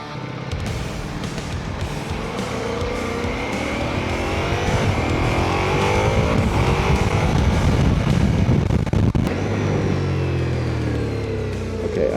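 A 2025 Ducati Multistrada Pikes Peak motorcycle engine revs and pulls hard, rising and falling through several gears in sweeping pitch climbs, loud and close, ending in a lower settled drone.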